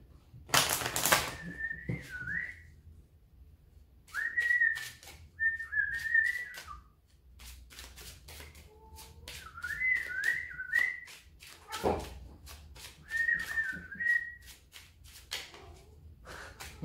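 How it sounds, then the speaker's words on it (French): A person whistles melodic phrases in short bursts, close and clear, with pauses between runs and occasional soft taps and shuffling of cards in between. "Désolée pour les sifflements."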